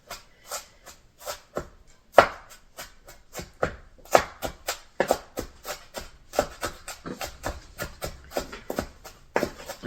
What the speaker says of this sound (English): Once you start cutting into that onion.